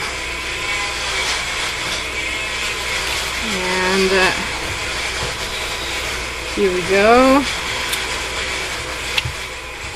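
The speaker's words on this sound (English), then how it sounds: "My son decided to use the blender and make a ton of noise." A blender whirring in another room, heard as a steady broadband mechanical drone with two short rising-pitch surges around the middle, running under a nearby voice.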